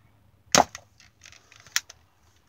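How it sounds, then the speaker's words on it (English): Nerf N-Strike toy blaster, defective so only one barrel fires, gives one sharp snapping pop followed by a few light plastic clicks and a smaller second snap, close and without talk. "See, mine only fires this barrel because it's defective."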